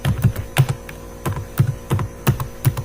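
Keys clack in quick, uneven bursts as code is typed on a computer keyboard, close and crisp with short pauses between runs.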